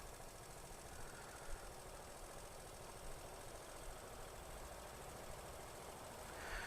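A Lexmoto Aspire 50cc/110cc motorcycle engine idles in neutral with a steady, even low rumble and faint mechanical vibration, continuous and fairly quiet throughout, with a slight rise near the end.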